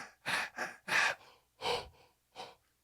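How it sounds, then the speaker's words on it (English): A series of five raspy, strained asthmatic-style breaths, short and effortful, with brief pauses between them, heard up close. "I will first do like a strained asthmatic breath"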